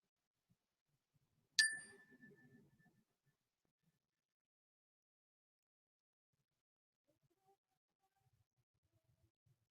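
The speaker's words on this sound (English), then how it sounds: "So now I'm going to ring our bell" A single bell strike rings out clearly, then decays slowly into silence, leaving a quiet room with faint stray noises.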